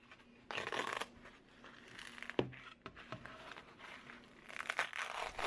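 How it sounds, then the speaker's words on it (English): Peel ply and breather fabric are pulled off a cured carbon fiber car mirror cover, producing close crinkly tearing and rustling in uneven bursts with a sharp snap partway through. "Now we can pull off that peel ply and the breather fabric"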